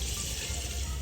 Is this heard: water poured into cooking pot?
yes